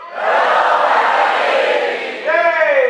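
Live event audience at a Spark.me 2016 leadership talk shouting a greeting together in a loud, sustained crowd roar that swells, then rises again near the end with a brief higher unison call.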